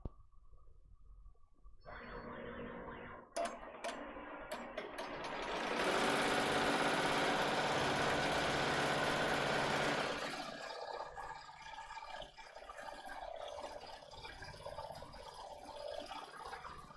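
An embroidery sewing machine stitches an applique in a hoop, its motor whirring up from soft start to a loud, steady buzzing run in the middle, then settling into a quieter rhythmic stitching hum.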